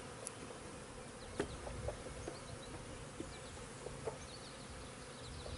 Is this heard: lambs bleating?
no